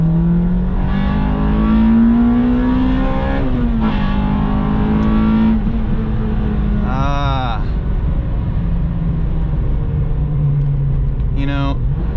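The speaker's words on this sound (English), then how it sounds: "the VTEC scream never gets old" A K20Z1-powered Acura RSX Type S revs hard through second gear under wide-open throttle, its engine note climbing loud and continuous from inside the cabin, with a brief shift dip partway through.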